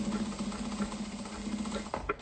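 A sewing machine stitching a seam on fabric for a mate (chimarrão) holder bag, a steady low motor hum with fine rapid patter, ending in a few brief clicks as it stops.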